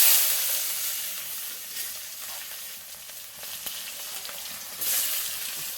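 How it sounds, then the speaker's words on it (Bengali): Onions frying in oil left over from frying sardine fish, a strong continuous sizzle with brief surges and faint stirring noises, close and loud, without any speech. "দিয়ে ভালো করে পেঁয়াজগুলো ভাজা ভাজা করে নেব।"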